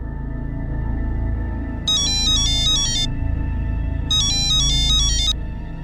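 A phone rings in a home with two bursts of a bright electronic ringtone melody, each lasting about a second, separated by a short gap, heard over a low steady room murmur.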